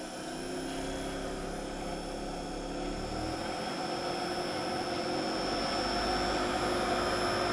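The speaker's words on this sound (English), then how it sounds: "So I'm going to go on and energize the centrifuge. I'll let her spin up slow first, and then I'll ramp the speed up." A direct drive centrifuge spins up slowly, giving a steady whirring drone whose rising whine grows gradually louder and higher in pitch.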